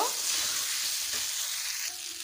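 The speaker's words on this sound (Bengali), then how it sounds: "এবারে দিয়ে দেবো ভেজে রাখা আলু আর পটল। এটাকেও 1 মিনিট মতো কষে নেব।" Potatoes and pointed gourd frying in spiced oil for a Bengali aloo potol kosha, a steady close sizzle with soft stirring scrapes throughout, no voices.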